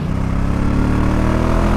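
A 2024 Honda Africa Twin motorcycle engine drones loud and close in a steady, throaty rumble that builds slightly, with strong wind and road noise and no voices.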